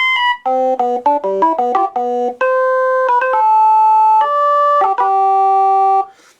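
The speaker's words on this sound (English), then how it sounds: "So this is supposed to be a organ sound right now." A bright Yamaha PortaSound PS-400 electronic keyboard in an organ voice plays a quick run of notes, then holds a few long sustained tones, loud and close with no talking.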